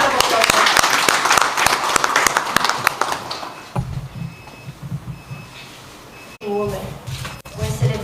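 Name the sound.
round of applause from audience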